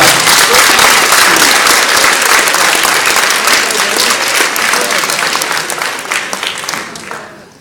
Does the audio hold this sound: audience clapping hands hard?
yes